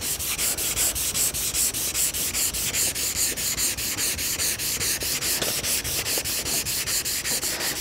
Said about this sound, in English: Let your paddle hang over the edge a little, just a little, and sand.